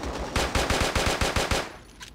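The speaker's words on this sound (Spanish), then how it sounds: "Che, como que esta arma tiene que gastar muchos tiros para matar a alguien." A rapid burst of about ten automatic gunshots from a weapon in a video game, loud and close, firing in an even rhythm before cutting off.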